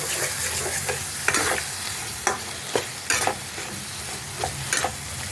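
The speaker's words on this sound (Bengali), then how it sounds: "1 চামচ জিরের গুঁড়ো দিয়ে ভালো করে মশলাটা আমি কষিয়ে নেব" Chilli powder and cumin powder frying into a spice masala for a stingray curry, with a continuous hiss of oil and repeated scraping spatula strokes throughout, close and fairly loud.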